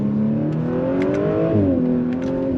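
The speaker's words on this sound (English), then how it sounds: "we get a little bit of those DSG farts" Audi B9.5 S4 revving hard from inside the car, a loud steady engine drone that climbs in pitch, dips at a gear change, and is punctuated by several short crackling DSG shift pops.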